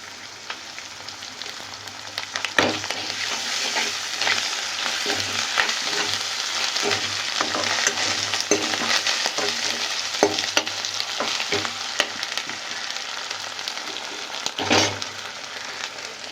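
Garlic paste and ginger paste fry in a hot pan, a loud continuous sizzle close up with occasional sharper crackles and scraping as the mixture is stirred.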